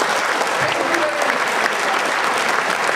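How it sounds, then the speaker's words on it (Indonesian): An audience at a 2013 dinner event applauds steadily, a dense wash of clapping that holds loud and even throughout. "Tepuk tangan untuk Kak Ari."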